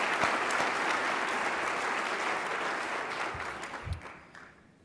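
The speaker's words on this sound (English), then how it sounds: "let's give another round of applause to the servers and the staff here at the" Warm applause from a gala crowd at the Hyatt for the servers and staff, steady dense clapping that carries on and fades out near the end, with a few louder claps standing out.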